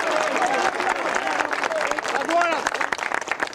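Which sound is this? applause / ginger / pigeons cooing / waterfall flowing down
applause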